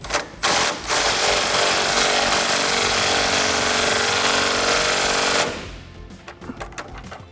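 An impact gun with a 16mm socket tightens the sway bar nut on a RAM 1500 front end during a leveling kit install: a loud, continuous rattling hammer lasting about five seconds, then stopping, with a few clanks after.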